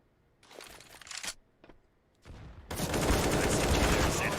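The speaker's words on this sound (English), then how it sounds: "Misses the first shots." Gunfire from a competitive shooter video game match between NaVi Junior and Sinners, a few sharp scattered shots followed by dense sustained rapid fire, loud and close.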